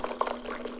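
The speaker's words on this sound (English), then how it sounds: "I pour it into my favorite mug." Coffee poured from a pot into a mug in a home kitchen at breakfast, a short close liquid trickle with small splashy bursts, lasting under a second with no talk.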